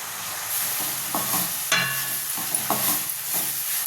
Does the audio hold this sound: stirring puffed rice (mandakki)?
yes